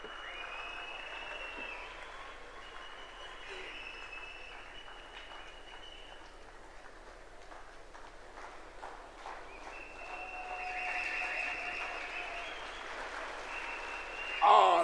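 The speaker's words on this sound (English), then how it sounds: "Let's clap properly." An audience at a government gathering applauding after a minister's speech, a sustained wash of clapping heard from a distance that swells slightly toward the end, with faint voices underneath.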